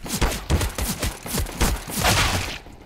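Rapid gunfire in the video game CS:GO, a dense run of sharp shots and thumps that stays loud and close for most of the stretch, then cuts off near the end.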